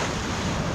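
Ocean waves washing against a rocky shore channel, a steady broadband surf roar mixed with wind noise on the microphone, continuous and fairly close with no talk.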